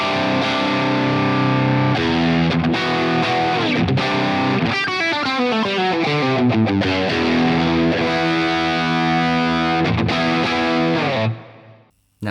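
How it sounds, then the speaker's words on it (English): Electric guitar through a Synergy Tone King Imperial MK2 preamp plays loud, distorted chords and a descending run, with classic vintage Fender- and Marshall-style tone, then cuts off abruptly near the end. "you get sort of classic, vintage inspired sort of Fender and Marshall tones."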